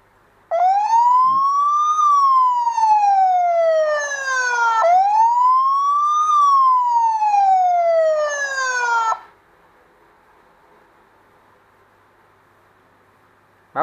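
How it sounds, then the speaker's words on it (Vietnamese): Alarm siren from a CareCam security camera wails loudly in two long rising-and-falling sweeps, each about four seconds, then cuts off to a faint hum. "Báo động thì nó cũng báo luôn nha."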